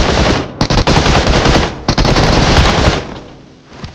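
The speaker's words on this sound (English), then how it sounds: "Always focus on pre-firing at the entry point." Loud continuous automatic gunfire pre-firing at a building entry point in BGMI/PUBG, with dense rapid bursts that keep going for several seconds before trailing off into quieter background.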